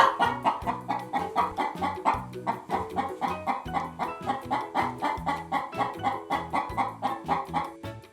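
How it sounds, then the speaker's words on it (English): Chicken clucking in a repeated, steady rhythm over a plucky backing tune, fairly loud and close, with no talking. "A chicken sounds like this."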